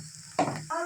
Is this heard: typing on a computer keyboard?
no